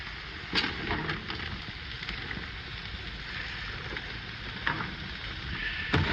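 Steak juices sizzle in a hot pan and are stirred around, giving a continuous close frying hiss broken by a few sharp scrapes and clicks of the utensil.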